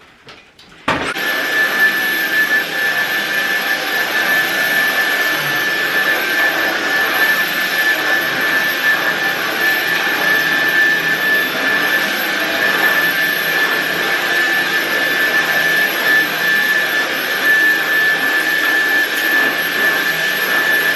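Vacuum cleaner cleaning a hotel entrance, with the motor switching on and then droning loud and steady at close range, holding a high whine for about twenty seconds.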